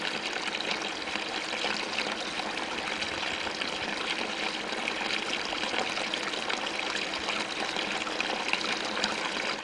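Water from springs and fountains trickling and splashing in a steady continuous flow, close and even throughout with no voices.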